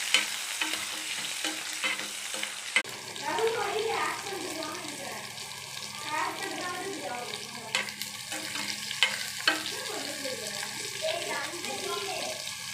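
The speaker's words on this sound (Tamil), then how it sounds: "1 கப் வெங்காயம், பூண்டு, கருவேப்பிலை 3 எண்ணெயில் போட்டுடலாம்." Onion, garlic and curry leaves fry in oil in a kadai with mustard seeds, giving a steady close sizzle with frequent stirring scrapes throughout.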